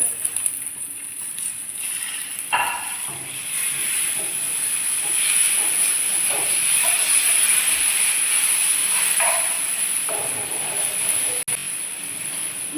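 Dried red chillies and curry leaves sizzle in hot oil for a South Indian Chicken Chettinad, a steady bright hiss that runs close and loud through the whole stretch with a few small pops.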